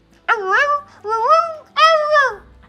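A person's voice imitates a dog during a children's story, producing three drawn-out, whiny yelps and whimpers in close succession, loud and close with short pauses between.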